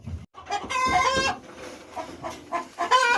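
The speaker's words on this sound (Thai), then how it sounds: "ไก่ตกใจค่ะ" Startled chickens cluck and squawk loudly nearby in agitated bursts while a cattle pen is being dismantled, with one drawn-out crowing call among the excited clucking.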